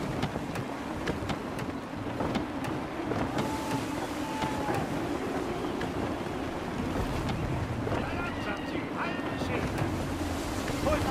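A sailing ship at sea in Assassin's Creed III, with gusting wind and rushing waves in a dense, continuous roar. Faint game effects surface near the end.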